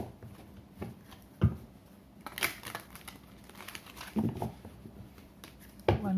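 Tarot cards are shuffled by hand in soft, irregular riffles and flutters, close and fairly quiet, with scattered papery slaps between bursts.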